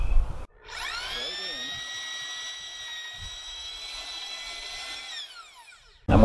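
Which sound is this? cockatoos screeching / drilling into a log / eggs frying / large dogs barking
drilling into a log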